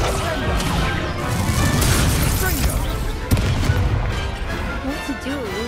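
Loud, dense spell explosions and crashing blasts from Hogwarts Legacy combat, a continuous barrage of booms with a sharp crack near the middle, under a man's speech.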